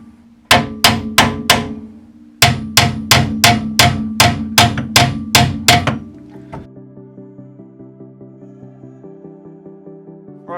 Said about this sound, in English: I'll put a bit of tension on it and then just tap